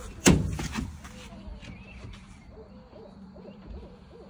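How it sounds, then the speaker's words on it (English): Hoot owls calling outdoors around Ellaville, a soft repeated series of low hoots that come in steady pulses at a distance, after a sharp knock or thump at the very start. "Got some hoot owls talking."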